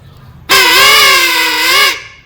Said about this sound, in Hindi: ये बच्चों वाला भोंपू है ये। ये बजा के दिखाइए।